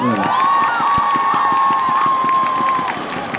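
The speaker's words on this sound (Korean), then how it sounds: "팬 여러분들 칭찬의 박수 한번 보내주세요" Baseball fans at a Doosan Bears stadium game cheer and applaud loudly, with a sustained roar and a rhythmic clapping pulse, while a long whistle-like tone rises and holds above the crowd for about two seconds.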